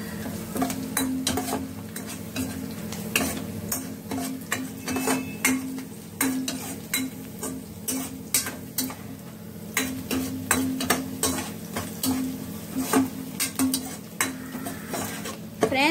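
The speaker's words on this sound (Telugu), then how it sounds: "శనగపప్పు ఇప్పుడు ఇవన్నీ బాగా ఫ్రై చేసుకోవాలి." Chana dal and mustard seeds frying in a pan while a spoon stirs and scrapes, giving steady clinks and scraping knocks over a low continuous sizzle, close and fairly loud throughout with no talking.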